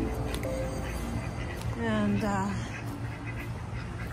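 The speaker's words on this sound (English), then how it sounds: "the ducks are enjoying their new area." Homestead ducks settled in a new pen lined with fresh wood chips give a short burst of quacking midway, under a voice and steady outdoor background noise.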